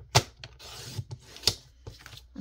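Scissors or a blade cutting half an inch off junk journal paper: a few sharp snips and a rasping slide, close and clear, with no talking.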